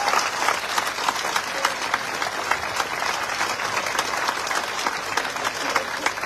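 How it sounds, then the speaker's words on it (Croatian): Applause from a concert audience at a pop singer's live show, a steady dense wash of many hands clapping at close range for about six seconds without letting up, with no voices standing out above it. "Može vas jedan veliki aplauz."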